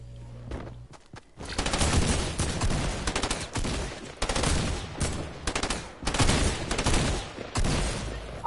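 Rapid bursts of burst SMG fire from a Fortnite match, loud and close, clustered in repeated volleys with brief gaps between them.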